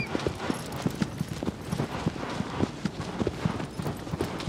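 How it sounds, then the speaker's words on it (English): Horse hooves pound in a quick, regular galloping rhythm in Shadow of the Colossus, close and clear over a soft wind-like background, with no talking. "Running around on my horse."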